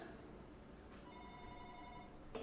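Telephone ringing into a radio dangdut call-in show, a faint electronic ring tone heard once in the middle over low background noise, followed by a brief click.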